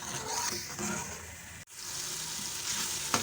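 Masala spices with salt, chili and turmeric fry in hot oil for a desi chicken curry, giving a steady close sizzle that cuts out briefly midway and then resumes with a faint clink near the end.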